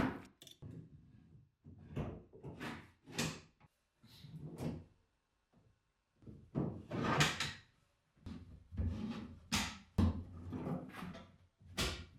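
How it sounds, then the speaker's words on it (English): Wooden kitchen drawers are installed and shut, giving a series of distinct knocks, slides and thumps spread over several seconds with short quiet gaps between bursts, close and fairly loud. "The next step was to install the drawers."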